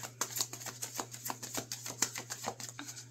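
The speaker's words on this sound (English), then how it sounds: "Let me keep shuffling." Playing cards shuffled again and again for a pick-a-card angel reading, a steady run of close crisp riffling flutters and soft slaps repeating through the whole clip over a constant low hum.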